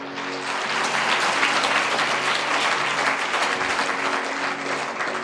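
A congregation applauds loudly at a sermon, a dense, steady crowd clapping that holds strong for about five seconds without letting up.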